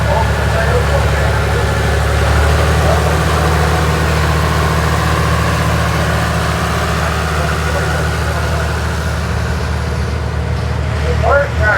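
A 1955 Oliver tractor idles and rolls along in a parade at the National Oliver Show in Boonville, Missouri, giving a steady, loud, low engine rumble that runs throughout while someone talks over it.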